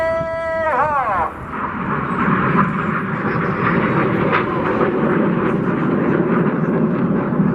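RAF Red Arrows jets roar through a display at Duxford, a loud sustained broadband engine rush that swells and holds, with a brief tonal whine as it begins.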